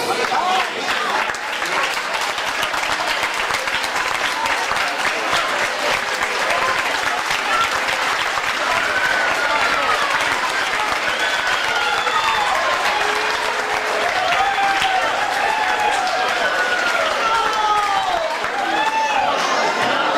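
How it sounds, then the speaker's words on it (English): Sustained audience applause at a high school sports awards ceremony: loud, continuous clapping from a large crowd lasting about twenty seconds, with cheers and voices rising over it in the latter half. "give our parents a round of applause"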